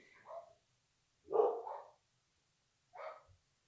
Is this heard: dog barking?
yes